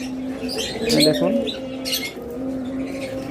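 A sun conure parrot gives a few sharp, shrill calls at close range while a person talks over them.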